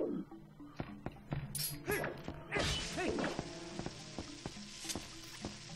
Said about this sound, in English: Let's break some pots.